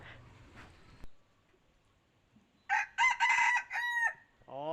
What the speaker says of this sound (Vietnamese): nghe tiếng gáy của con này xem như nào nhé